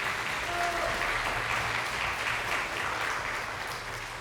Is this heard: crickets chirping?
no